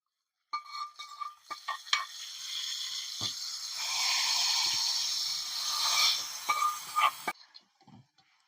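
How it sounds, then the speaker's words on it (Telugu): Buttermilk is poured into a hot tempering, and a soft hiss and sizzle swell and fade over several seconds, framed by scattered clinks of a pan and utensils at close range. "ఈ తాలింపు అయింది, మజ్జిగలు వేసుకుందాము"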